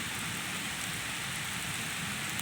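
Steady rain pours down in a village, a dense, even hiss of drops on surfaces that holds constant and close throughout, with no voices.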